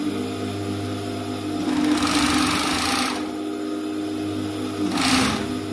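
A 5-thread overlock serger runs steadily with its threads loaded, a fast mechanical whirr that swells louder in two bursts before easing back, close and alone without talk.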